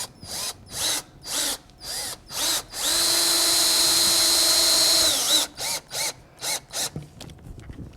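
A power drill drives fasteners through log siding at a butt and pass corner, giving a series of short bursts, then one long sustained run of about two seconds, then more short pulses; loud and close, with no talking.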